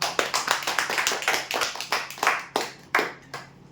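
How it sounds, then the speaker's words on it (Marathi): Several hands clap for the winners of a lottery draw, a fairly close, moderately loud burst of irregular claps. It starts dense and thins out toward the end. "टाळ्या होते यांच्यासाठी"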